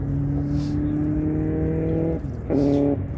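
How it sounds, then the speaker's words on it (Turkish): Race car engines drone steadily at high revs, cut off briefly, then roar back louder; a sustained motor whine in the distance. "Araba sesleri duyarsanız arkadaşlar motor sesleri"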